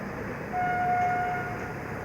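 The Shiv Ganga Express from Banaras to New Delhi rushes past at night at speed with a steady rumbling roar, and a horn sounds for about a second in the middle.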